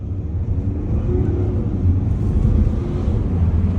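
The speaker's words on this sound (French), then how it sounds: "je vais arrêter de parler pour que vous puissiez écouter l'accélération" BMW 1 Series F40 with 150 hp accelerating, heard from inside the car as a low engine rumble that builds steadily under road and wind noise, no talk.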